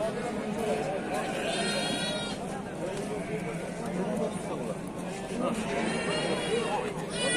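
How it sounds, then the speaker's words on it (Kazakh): Sheep bleat amid rams and lambs at a busy livestock market, with a few drawn-out calls standing out over a constant murmur of people talking and trading nearby. "Бары қошқор екен."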